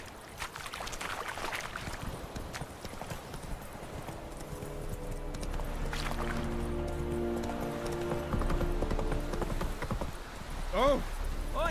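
Roach, the horse in The Witcher 3, gallops with steady rhythmic hoofbeats that sound close and fairly loud, running under game music and ambience for most of the stretch.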